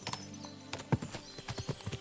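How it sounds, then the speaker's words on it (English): Horses in Kingdom Come Deliverance II clop along on hard ground, a brisk irregular run of close hoof strikes with a soft snort mixed in. "What a lot of horses."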